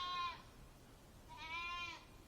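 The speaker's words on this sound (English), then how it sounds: "Goats are chilling." Goats on a rainy homestead give two clear bleats about a second apart, moderately near against quiet outdoor background.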